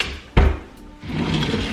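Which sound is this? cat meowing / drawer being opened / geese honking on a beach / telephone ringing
drawer being opened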